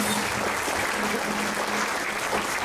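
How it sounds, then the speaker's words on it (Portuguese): A church congregation applauding, a steady, dense wash of many hands clapping at moderate volume throughout, with no talk over it. "Vamos aplaudir o Senhor Jesus porque Ele está aqui."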